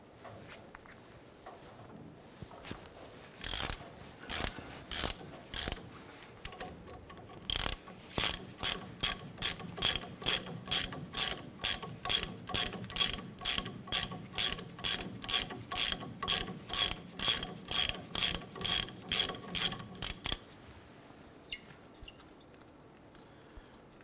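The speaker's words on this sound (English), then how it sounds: "I'm gonna go ahead and use our 21 millimeter socket and our ratchet." Ratchet with a 21 mm socket removing a nut on a 1993-1997 Ford Ranger inner tie rod, a long run of rapid, evenly spaced ratcheting clicks up close after a few separate clicks, then stopping.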